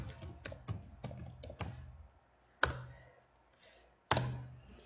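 A computer keyboard is typed on close by: a run of quick keystrokes, then two louder, isolated key strikes separated by quiet pauses.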